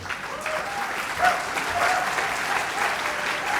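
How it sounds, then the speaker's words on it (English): An audience at a Formula Student business plan presentation final applauds a presenting team, with steady, dense clapping filling the room and a voice faintly heard over it. "One more round of applause for Liverpool."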